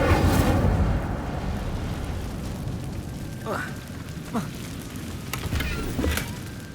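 An Incendio fire spell in Hogwarts Legacy bursts with a loud roaring whoosh at the start, then settles into a steady crackling hiss with a few brief swishing accents, and a voice speaks over it.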